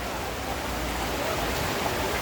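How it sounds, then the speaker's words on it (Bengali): Steady rain falling outdoors beside a small market in Guangzhou, a continuous broadband hiss without breaks, fairly close and even in loudness throughout. "যেহেতু বৃষ্টি হচ্ছে বাহিরে"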